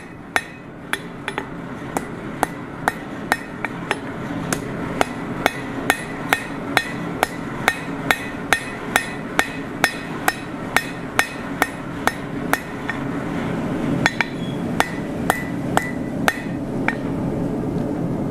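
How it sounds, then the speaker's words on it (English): A cross peen hammer strikes hot steel while forging a hook, landing roughly thirty sharp, ringing blows in a steady, even rhythm over a low background hum. "Back in with the cross peen on the hammer. I'm trying to make sure my hammer blows are going all the way to the back of the eye"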